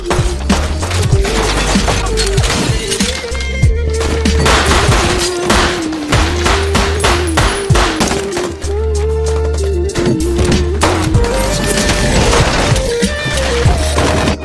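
A siege battle in Mosul fills the air with loud, continuous gunfire, dense overlapping volleys and rapid bursts over a deep rumbling background. The sound is intense and sustained throughout, with no talking.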